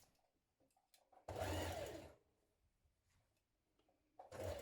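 A sewing machine runs in two bursts, one long and one short, stitching gathers in place around a dress bodice, with quiet pauses between and no voices.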